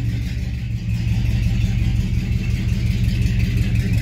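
An old Oldsmobile with a newly fitted transmission rumbles steadily while backing up in reverse, a loud close low engine drone holding an even pitch throughout with no one speaking.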